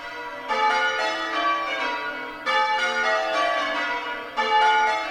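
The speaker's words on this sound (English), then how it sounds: "At the end of the session, the bells are lowered, and I took a recording of this outside." Church bells ring in overlapping rich peals that surge in waves as the swinging bells are lowered, each burst of clangs rising then easing, heard from outside with no voices.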